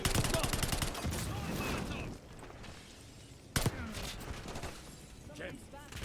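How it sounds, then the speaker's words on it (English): Dense gunfire from the Black Ops 6 campaign, bursts of rapid shots with a sharp loud crack near 3.6 seconds, running under steady game noise and voices talking throughout. "There's just so much shooting."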